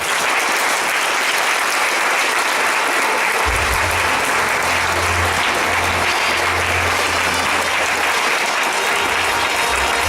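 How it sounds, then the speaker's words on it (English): Loud, sustained applause from a large audience at a business awards ceremony honoring a Management Man of the Year, a thick continuous roar of clapping with a low musical tone entering partway through. "Let's give him another warm round of applause"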